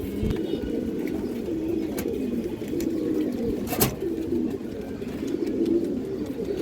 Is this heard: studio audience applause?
no